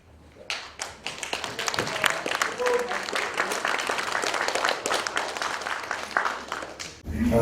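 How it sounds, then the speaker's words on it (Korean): Sustained applause from a church audience at a Wednesday worship service, welcoming a Presbyterian pastor, steady dense clapping throughout with a brief pause near the end. "귀한 뜨거운 박수로 오늘 나오실 때에 환영해 주시면 감사하겠습니다"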